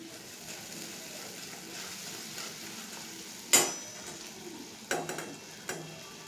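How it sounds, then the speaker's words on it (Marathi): Masala for stuffed brinjal frying in oil in a pan, a soft steady sizzle with a few sharp scraping clinks of a spoon against the pan near the end. "आपण याला 2 सेकंद किंवा 2 ते 5 सेकंद चांगलं तेलामध्ये भाजून घेऊयात"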